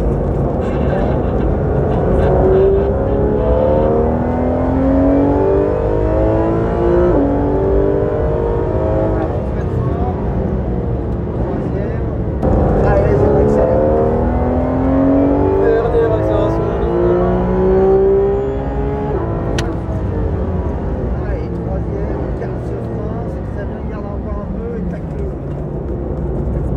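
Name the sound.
Porsche 911 GT3 RS driven on a race circuit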